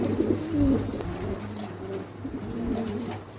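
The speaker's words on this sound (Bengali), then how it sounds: "অনেক সুন্দর কবুতর দেখেন একদম লাড্ডু আছে খুবই চমৎকার কবুতরগুলো" Pigeons coo at a pigeon showroom, a close low cooing phrase followed by softer repeated coos over a steady murmur of other birds.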